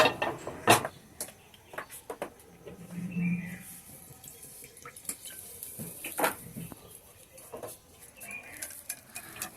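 Spice masala stirred into a vegetarian potato gravy in a pan, with irregular clinks and scrapes of utensil on metal, some spaced sharp knocks and faint splashy water-like noise between them.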